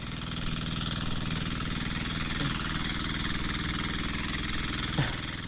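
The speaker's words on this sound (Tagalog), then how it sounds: "pinandar na natin yung mga makina" Machine engines run at a Zambales construction site, a steady loud drone with low pulsing throb throughout and a couple of brief knocks, with no talking.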